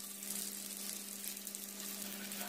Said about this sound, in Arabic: وبعد كده هنبتدي نقلي الحمام بالشكل ده